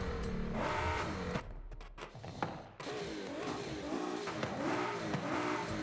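A turbocharged Porsche 911 with a V6 engine in a racing video game revs hard and accelerates, loud and continuous with rising and falling engine pitch, a short dip in the middle as it shifts before climbing again.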